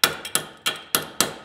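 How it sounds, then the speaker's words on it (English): A brass hammer strikes a wrench six times in quick succession, each a sharp close metallic tap with a brief ringing decay, irregularly spaced and with no talk. "you can take a brass hammer, you can give it a"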